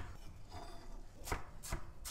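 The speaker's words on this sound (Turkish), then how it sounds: "Şimdi bunu ince ince doğruyorum." A few sharp knife chops against a cutting board as a peeled tomato is finely chopped, spaced irregularly with short pauses, fairly quiet over a faint background.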